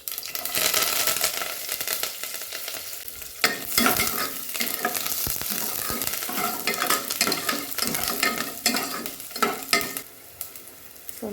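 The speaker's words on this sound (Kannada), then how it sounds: "ಸ್ವಲ್ಪ ಬೆಳ್ಳುಳ್ಳಿ ರೋಸ್ಟ್ ಆಗೋದು ನೋಡಿ" Garlic, cumin seeds, urad dal and curry leaves fry loudly in hot oil, a dense continuous crackling sizzle broken by stirring scrapes and brief clatter against the pan.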